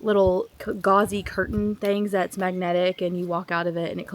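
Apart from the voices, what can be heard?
No everyday noises stand out.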